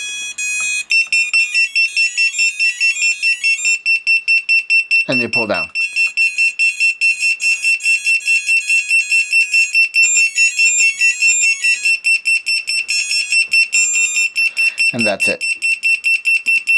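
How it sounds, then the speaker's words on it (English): A brand-new quadcopter drone, set up in Betaflight with its battery plugged in and the transmitter off, beeps loudly and rapidly in a steady, unbroken pattern throughout. Someone talks briefly over it. "sorry for the beeping. It's because I have it set so that it beeps."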